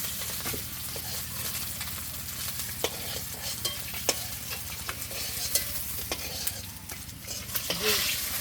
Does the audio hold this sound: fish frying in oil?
yes